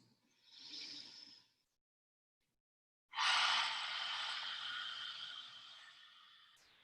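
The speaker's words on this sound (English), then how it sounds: "Inhale in through your nose." Deep breaths through the nose during a power yoga flow, a short soft inhale followed after a pause of silence by a longer, louder, airy draw of breath, close and alone.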